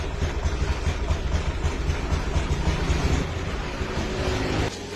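A Honda Beat scooter with a clogged injector filter runs unevenly, its engine sputtering and unable to rev, in a continuous close, loud mechanical drone that drops slightly near the end.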